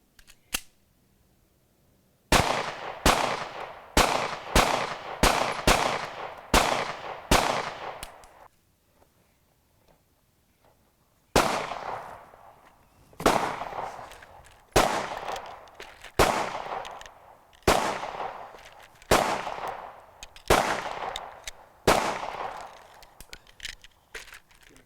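Two strings of rapid pistol shots from a P08 Luger, sharp cracks about half a second apart, a group of about eight, a pause, then another long string of about ten, loud and close.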